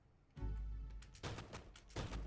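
Repeated gunshots from a video game ring out in quick succession, loud bursts pounding across a couple of seconds with no talking.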